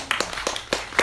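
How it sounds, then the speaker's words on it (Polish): A small audience at a literary talk claps for a guest, a sparse scattering of separate claps rather than full applause, fairly close and with no one speaking. "Brawa."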